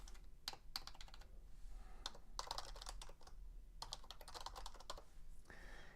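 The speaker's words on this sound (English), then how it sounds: "I'm going to go ahead and type in int number equals 20." Code being typed on a computer keyboard, with quick bursts of clicky keystrokes in irregular runs separated by short pauses, close and fairly quiet, with no talking.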